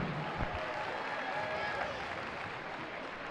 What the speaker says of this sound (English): Let's put your hands together for them